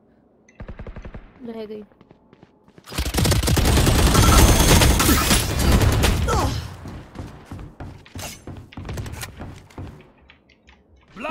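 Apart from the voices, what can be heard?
gunfire in Valorant video game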